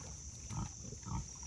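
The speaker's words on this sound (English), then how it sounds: "I am loaded with pigs, piglets, hogs, all manner of pork." Pigs and piglets on a farm with a new litter grunt in low, soft, muffled bursts, two rising grunts over steady background hiss, fairly faint and close.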